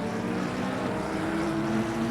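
A helicopter filming a motor race gives off a steady, close droning engine and rotor hum that stays level throughout, with no voices.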